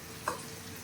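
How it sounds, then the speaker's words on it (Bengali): Vegetables for chicken vegetable chowmein fry quietly in a pan, a faint steady sizzle with one brief clink of a utensil. "দেখুন বন্ধুরা, আমার ভাজাটা অনেকটা হয়ে এসেছে"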